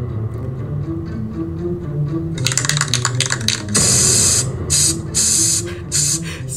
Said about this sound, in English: Spraying it right on him.